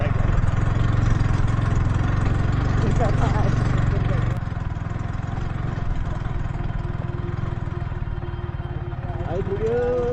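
A motorbike engine labours steadily while climbing a steep, slippery off-road trail near Godawari's Marble Danda, droning close and loud, then easing slightly in pitch and level partway through.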